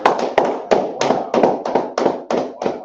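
A small class bursts into a run of about nine hand claps in a steady beat, close and crisp, with no talk over them.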